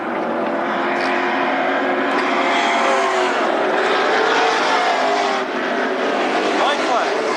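Late model race cars at Berlin Raceway roar past in a dense, continuous, loud wash of engine noise, a pack running together on the oval with a crowd-like din beneath.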